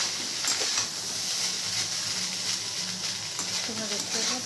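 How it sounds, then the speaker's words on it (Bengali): Rice frying in a wok makes a constant close hiss and sizzle throughout, with a faint voice briefly audible near the end. "দেখো সুন্দরভাবে এভাবে ভেজে নেবে"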